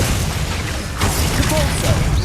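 The Capulso spell cast in Hogwarts Legacy, with a sudden magical burst and whoosh over a constant low game rumble and mechanical clatter, close and fairly loud.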